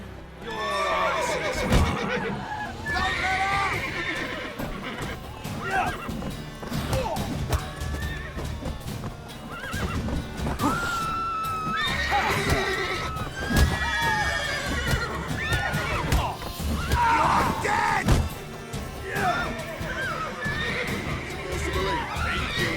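Horses in the video game The Witcher 3 neigh and whinny repeatedly amid clopping hooves and shuffling, with voices talking at times throughout a busy, continuous scene.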